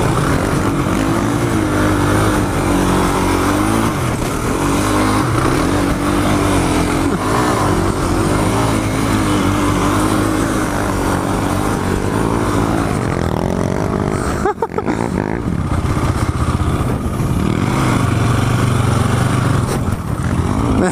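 Race quads, a DS 450, a KFX 450 and an Outlaw 500, doing donuts in a dirt pit, engines roaring continuously loud and close with revving surges throughout.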